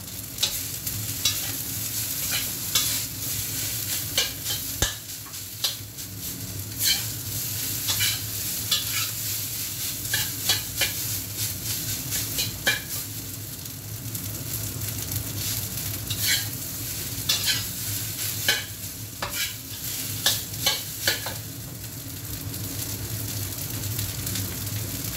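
Fried rice is stir-fried in a smoking pan, with a steady sizzle and repeated scraping and stirring strokes that come in quick irregular bursts throughout, close and fairly loud, with no talking.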